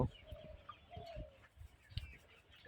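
Chickens cluck softly in a farm setting, a few short, faint calls scattered among quiet background noise with occasional light bumps.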